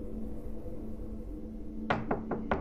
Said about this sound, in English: I don't like the knocking.